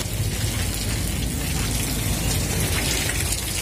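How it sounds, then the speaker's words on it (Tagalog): Steady rain falling in a city street during rainy traffic, a constant loud wash of drops and hiss with no pauses and no voices. "Maulan talaga ang panahon."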